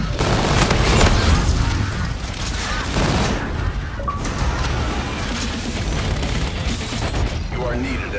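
Thor scorestreak strikes in Infinite Warfare gameplay set off heavy booming explosions that roll into dense rumbling blasts, loud and continuous, with brief game radio chatter mixed in.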